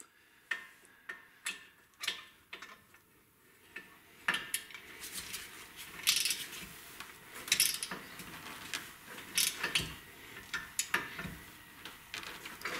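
A ratchet wrench cranking the front brake caliper bolts on a Toyota Avalon, a close rhythmic series of sharp ticking clicks, sparse at first and then faster with metallic clanks, with no talking.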